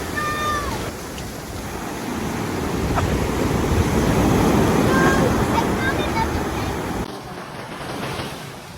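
Pacific surf washing up on a San Diego beach, a steady broad roar of breaking waves with wind buffeting the microphone, while seabird or child-like calls and faint voices drift in over the wash.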